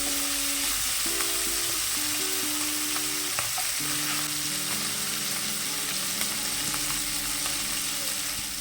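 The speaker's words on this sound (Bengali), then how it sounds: "মাছগুলোকে লাল লাল করে ভেজে নিয়েছি" Tangra fish rubbed with salt and turmeric fry in hot oil with a dense, even sizzle that runs unbroken throughout, while faint steady tonal sounds sit in the background.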